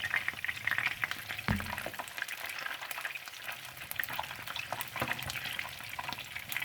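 Chicken browning in oil in a frying pan, a steady soft sizzle and crackle with a few louder pops and stirring scrapes, close and alone with no voices.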